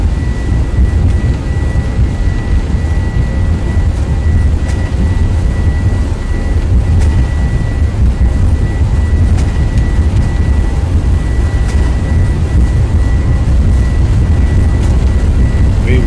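Airbus A321 accelerating down the runway on a takeoff roll in the X-Plane 11 flight simulator, a loud steady engine roar with low rumble and a faint whining tone, holding constant throughout with no pauses.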